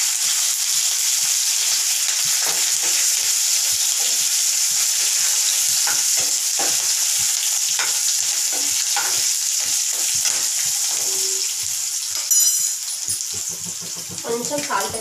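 Peanuts, green chillies and curry leaves frying in a pan, giving a steady, close sizzle with scattered crackles and pops throughout, a few clinks near the end.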